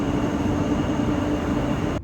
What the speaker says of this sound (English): I had to take the slower Eurocity train, which will take longer